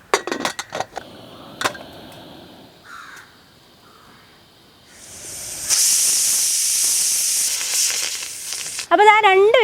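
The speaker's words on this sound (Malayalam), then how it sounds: "രണ്ട് വിസിലടിക്കണത് വരെ വേവിച്ചാൽ മതി" Steam hisses loudly and steadily for a few seconds, then a warbling pressure cooker whistle rises at the end while cooking ada for payasam, after some earlier kitchen clatter.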